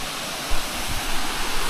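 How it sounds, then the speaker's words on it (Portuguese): Artificial waterfall near Lago di Tenno pours in a steady, broad rushing wash of falling water, continuous and fairly loud with no clear voices over it. "Mas isso aqui é uma cachoeira artificial,"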